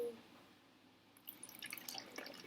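Water trickles and drips into a bottle during a classroom science activity, faint and close, a quiet pattering stream building over the last couple of seconds.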